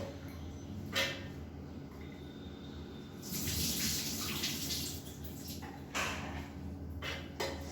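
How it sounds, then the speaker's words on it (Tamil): Water drains off soaked chana dal in a home kitchen with a steady rushing pour that swells for a couple of seconds and then tapers, with faint running water around it. "இப்போ தண்ணியை வடிச்சிட்டு சேர்த்துக்கலாம் ஒரு மிக்ஸி ஜாரில்."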